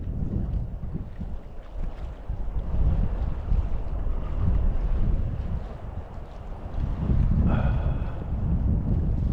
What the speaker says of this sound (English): Too exposed, it's windy as hell.